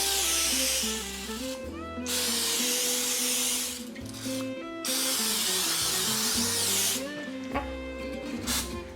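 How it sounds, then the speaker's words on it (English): Aerosol cooking spray hisses in several bursts onto a baking pan in a home kitchen, loud and close, with short pauses between the sprays. "you will get your aerosol spray and spray your pan"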